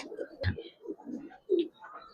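Giribaz pigeons coo in soft, low, throaty bursts from a loft, with a couple of short calls close by and a faint flutter between them.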